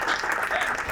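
Studio audience applauding during a Ramadan quiz show, a brief steady wash of clapping at moderate level with no pause.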